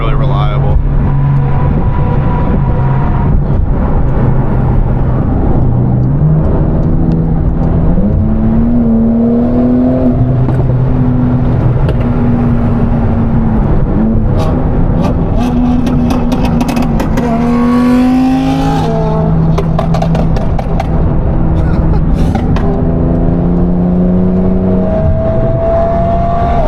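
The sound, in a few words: 1,000 hp Porsche Turbo S and Audi R8 with F1 exhaust revving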